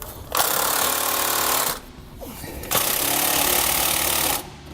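An impact wrench tightens bolts on a Roadmaster rear anti-sway bar under a 2017 Ford F-53 chassis. Two loud, close, sustained rattling bursts are separated by a short pause.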